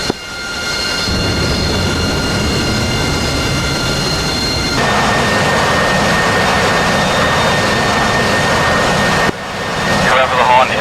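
In DCS World, a Harrier jet's engine roars steadily through a simulated landing approach. The loud, continuous whine and rumble shifts in tone partway through and swells near the end, with voices likely present beneath it.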